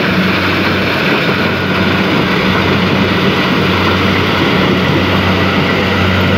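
A Kubota L5018 tractor engine drones steadily while hauling harvested corn in the field, a loud, continuous low rumble with a constant hum and no breaks, heard close up without talking.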